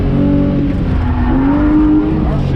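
A car drifts in the racing sim Assetto Corsa on a track with big drop-offs along its edges, its engine droning steadily and loudly with a rising, wavering tire squeal throughout.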